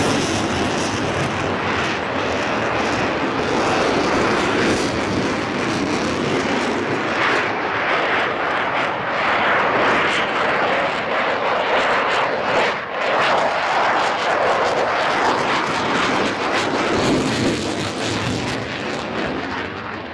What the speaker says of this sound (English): This is the latest, the Block 7072 version of the F-16.